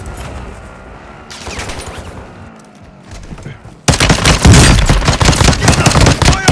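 Automatic gunfire in the video game Warzone 2.0: scattered shots and quieter battle noise at first, then a sudden loud, dense stretch of rapid machine-gun bursts that runs to the end.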